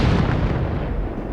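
A SMAW rocket launcher fired in Arma Reforger, a single heavy booming blast with a deep rumbling tail that fades over about a second, loud and alone.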